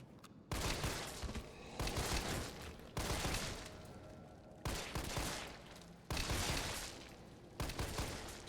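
Gunfire in Resident Evil 3 Remake comes as about six evenly spaced bursts of shots, each a loud sustained volley with no talking.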